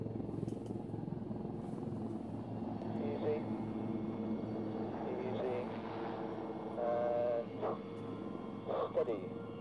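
Display aircraft climbing into position at an air show make a distant, sustained engine drone, faint and rumbling beneath a commentator's announcements over the public address.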